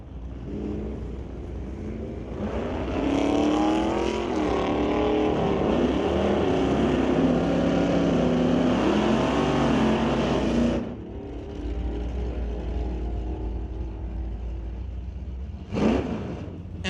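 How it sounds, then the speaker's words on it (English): At a sportsman drag race, a Dodge Dart and a Chevrolet Chevelle launch side by side. Their engines rise into a loud sustained roar for several seconds, then cut off and fade to a quieter rumble. "Next up, it's Wayne Douglas and Joel Smith, the SBB Racing Dart, going up against the Zap Strap Racing Chevelle."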